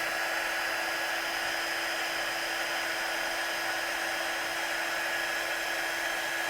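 A heat gun blows with a steady high whine and airy hiss while warming up for heating embossing powder, close and constant with no talk.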